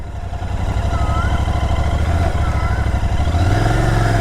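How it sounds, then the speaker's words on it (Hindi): A GT motorcycle with a worn clutch plate revs close up, its engine note holding a steady drone and climbing in pitch toward the end. "देखो अभी जीटी नॉर्मली 20 पे चल रही है, और मैं थोड़ी रेस दे रहा हूँ तो बढ़ रही है आगे को ना।"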